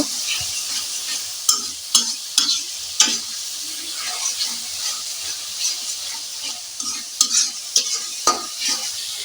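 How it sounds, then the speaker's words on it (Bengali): Whole spices for a meat curry, bay leaf, cardamom, cinnamon and cloves, fry in hot oil with a bright sustained sizzle, punctuated by sharp spatula clicks and scrapes against the pan at close range. "এখন দিয়ে দিচ্ছি আস্ত মাংসের মশলা এখানে আছে তেজপাতা এলাচ দারচিনি লবঙ্গ"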